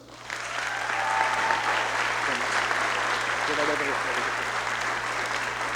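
Sustained audience applause fills a hall at a scholarship night, steady and broad, with faint voices murmuring underneath.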